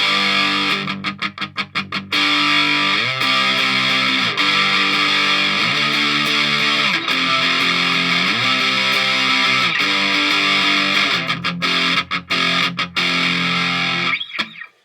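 Electric guitar played through a Bluesbreaker-style distortion pedal on a budget DIY pedalboard, set to mild drive, chugging sustained distorted chords loud and close with brief muted gaps, ringing out alone without talk.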